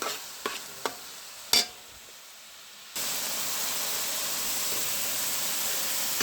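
An iron-rich vegetable frying in a pan: a few sharp clinks and taps at first, then after a quiet gap a steady hissing sizzle takes over, even and moderately loud to the end.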